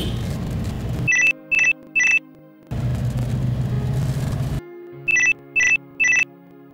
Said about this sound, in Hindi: ଆରେ ଫୋନ୍ଟା ଉଠେଇବାକୁ ଡେରି କରୁଛ କାହିଁକି?